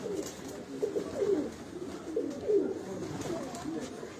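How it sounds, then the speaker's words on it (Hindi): Wild pigeons coo softly nearby, two or three low, rolling calls in quick succession over a quiet outdoor background. "तो ये कुछ जंगली कबूतर हैं, ये जा रहे हैं।"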